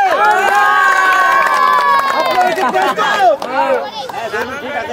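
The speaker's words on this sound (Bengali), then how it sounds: "জোরে একটা তালি হবে" A crowd at an outdoor football-style running challenge cheers and shouts loudly for the winners, with excited voices overlapping in a continuous, energetic roar.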